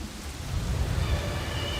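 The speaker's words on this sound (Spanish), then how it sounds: "Las nubes se condensan y se vuelven gotas de lluvia" Rain falls steadily in a dense, close wash of patter with a low rumbling undertone throughout.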